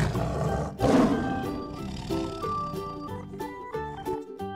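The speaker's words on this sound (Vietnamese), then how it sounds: "Đây là con hổ." A tiger roars once, loud and close, then a deep growling roar trails off beneath steady background music.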